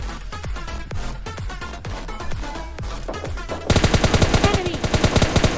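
Rapid gunfire in the mobile shooter PUBG Mobile Lite, a fight at a squad house: scattered shots under steady game noise, then a loud, dense burst of automatic fire with evenly spaced cracks near the end.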